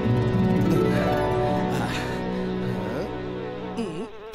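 Dense, loud droning hum of bees swarming around honey, a continuous layered buzz with shifting pitch, close by and alone without talk.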